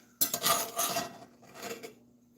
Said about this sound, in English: Scrape the bottom of this pan of my hamburger.